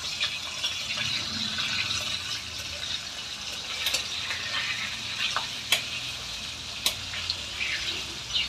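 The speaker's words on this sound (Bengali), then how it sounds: "মাছটা আমার এক পিঠে ভাজা হয়ে গেছে। তো আমি এখন উল্টিয়ে দেব।" A pabda fish frying in oil after being turned over gives a continuous sizzle and crackle, broken by a few sharp clinks and scrapes of a utensil, fairly close, with no one speaking.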